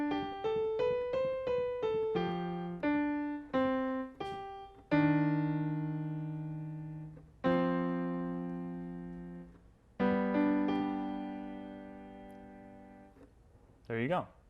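On piano, the opening section of a piece in an easy arrangement: a quick run of single notes gives way to sustained chords that ring and fade slowly, played alone at moderate volume.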